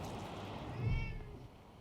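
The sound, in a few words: cat meowing in the video game Wasteland 3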